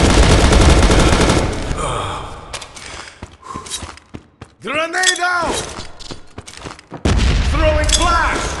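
Grenade blast and gunfire in the shooter game Modern Ops: loud dense bursts of shots open and close the stretch, with scattered impacts and a brief falling whistle-like tone in between.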